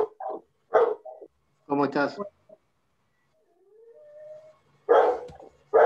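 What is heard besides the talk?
dog barking and howling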